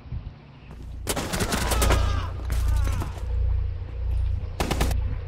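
Video game gunfire from Rainbow Six Siege: loud bursts of rapid automatic shots in several volleys, with echoing tails between them, while players talk briefly over the action.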